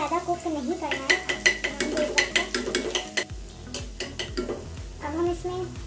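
Green chili and garlic frying in oil for momo stuffing, with a steady sizzle under repeated clinks and scrapes of a spoon stirring in a pan, close and fairly loud.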